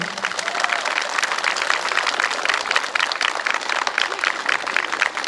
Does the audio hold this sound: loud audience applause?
yes